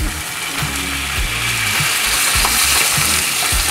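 Beef frying in oil in a pan, a steady bright sizzle with scraping and clanking of a utensil against the pan mixed in, close and continuous.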